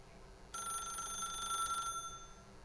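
A telephone rings in The Stanley Parable, a bright electronic ring that holds steady for just over a second, loud and clear over quiet game background with no talking.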